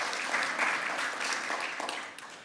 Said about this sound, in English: See, Jim, there's always an applause for the former provost.